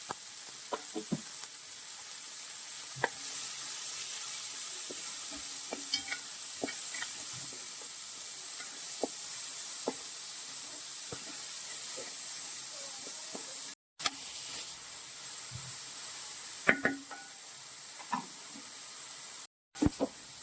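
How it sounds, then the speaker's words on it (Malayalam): Green chili, beans and onion sauté in hot oil, giving a steady close sizzle and hiss with scattered stirring clicks and scrapes, briefly cut twice. "അതിന്റെ കൂടെ തന്നെ പച്ചമുളക്, ബീൻസ്, സവോള ഇത്ര സാധനം ഇട്ട് നന്നായിട്ടൊന്ന് വഴറ്റിയെടുക്കണേ."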